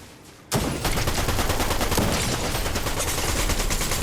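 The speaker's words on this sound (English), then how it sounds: "Try out this brand new SMG." Rapid automatic fire from a new SMG in Fortnite Chapter 5 Season 2, a dense continuous burst that starts abruptly after a brief quiet moment and keeps rattling loudly to the end, with no talking.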